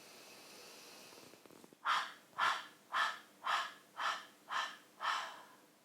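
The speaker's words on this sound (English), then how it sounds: "We're going to take a big breath in and see if we can open and close the valve as we exhale." Ujjayi breathing through a constricted throat, a long inhale followed by seven evenly spaced, close, breathy pulses as the exhale is cut on and off.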